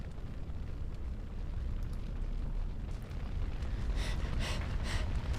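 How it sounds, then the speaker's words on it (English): A low, steady roar of fire burning in Dragon Age: Origins, a dense rumbling rush with faint crackles rising near the end, continuous and fairly quiet. "Are we gonna try to walk through the fire?"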